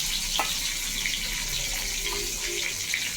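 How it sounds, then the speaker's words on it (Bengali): Fish fries in oil in a pan, the oil sizzling and crackling steadily, a continuous hiss with small pops, close by. "একটু লাল করে ভাজা হোক"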